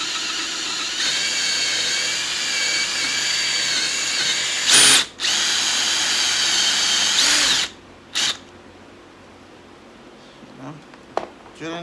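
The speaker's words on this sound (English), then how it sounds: "Drilling out fabric." A power drill boring through sofa upholstery fabric while legs are changed on a sofa: a steady high whine for several seconds, a brief stop, another long run, then short bursts as the drill dies away.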